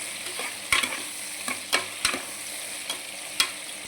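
Mixed vegetables for a khichdi fry in a pan with a steady soft sizzle, punctuated by about half a dozen sharp scraping clicks as a utensil stirs them, close up and without voices.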